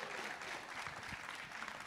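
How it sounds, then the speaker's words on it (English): Audience applause at a college fund pitch competition event, a steady wash of clapping from a large seated crowd filling the whole short moment without speech. "Y'all, please, let's clap it up for Ms. Burgess."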